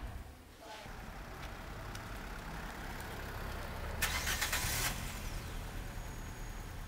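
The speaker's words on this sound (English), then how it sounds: "Watching Aoife reverse her car so I can get in." A car reverses close by, its engine a quiet, steady hum with a brief louder rush of noise partway through.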